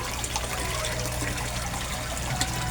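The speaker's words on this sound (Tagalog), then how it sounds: "Ang lakas-lakas ng air pump ko." An 18-watt aquarium air pump bubbles in a koi fish tank, a constant close rush of fizzing water and bubbles with no gaps and no voices.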